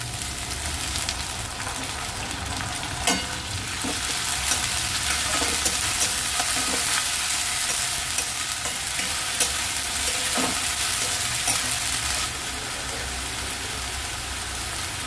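Ground spice paste hitting a pan of browned onions, a loud, steady close sizzle with occasional spatula scrapes and taps running throughout, for a chicken and egg dish.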